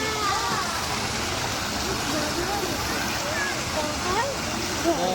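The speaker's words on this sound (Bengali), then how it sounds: "ঝর্ণাটা কি সুন্দর।" A park waterfall pours in a steady, unbroken broadband rush that runs the whole time, with people chatting nearby and some high chirps over the water.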